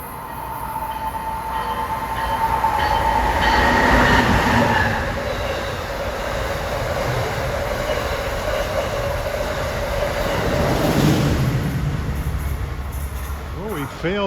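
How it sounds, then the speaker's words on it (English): An Amtrak passenger train rumbles past steadily for the whole stretch, with rising and falling rail noise and a brief faint squeal of wheels. "approaching New York bound is Amtrak 84 out of Norfolk, Virginia to New York"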